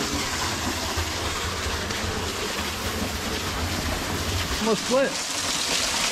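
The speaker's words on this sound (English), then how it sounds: "Waterfall!" A waterfall rushes in a steady broadband roar. Someone speaks briefly over it near the end.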